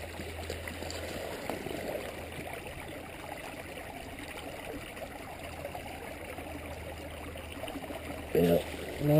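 A shallow creek runs over a rocky bed in a steady, soft, low rush. A brief louder bump comes near the end.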